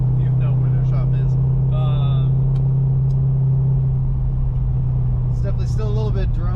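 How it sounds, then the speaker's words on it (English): A Corvette Z06 with a new exhaust, valves fully open, drones steadily as it climbs a hill, a constant low hum inside the cabin while someone talks over it. "It's definitely still a little bit droney, but I think it's just because the valves are, you know, fully open right now."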